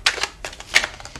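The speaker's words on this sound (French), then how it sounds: "Je vais juste recouvrir voilà, cette carte." A tarot card being laid down and covered on a reading table, with soft papery slides and taps in a few brief bursts, close and quiet, no voices.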